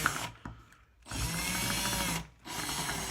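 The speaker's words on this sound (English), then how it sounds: "So once again, you wanna put it in low setting on your drill." Power drill on a low setting boring out a stripped screw: two sustained whirring runs separated by short pauses, close and fairly loud, with no talking.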